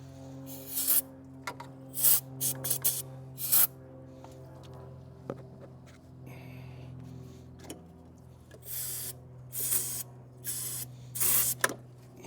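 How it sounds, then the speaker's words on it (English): Starter fluid sprayed in short bursts into the intake of a 1986 Corvette C4, several close hissing spurts over a faint low hum in a quiet garage. "let me spray some starter fluid in the intake"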